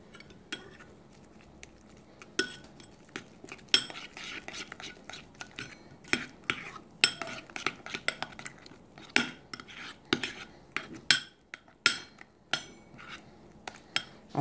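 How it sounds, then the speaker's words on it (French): Egg and avocado salad for a sandwich being stirred in a bowl, soft intermittent scraping and clinking of a utensil against the dish, fairly faint, with a quiet voice now and then. "On brasse ça bien."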